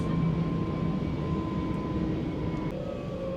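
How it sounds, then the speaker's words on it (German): An S-Bahn electric train rolls along with a steady, quiet interior hum and rumble, joined by faint whining tones that step in pitch as it brakes. "Ich finde ja den Sound der S-Bahn so angenehm. Hört ihr das? So ein leises Surren."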